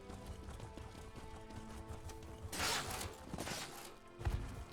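A mount's hooves clip-clop and gallop in The Elder Scrolls Online, a run of muffled hoofbeats with louder bursts of footfalls and creaks over a faint game soundtrack.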